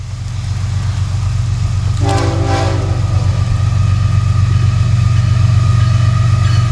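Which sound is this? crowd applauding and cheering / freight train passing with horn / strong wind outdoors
freight train passing with horn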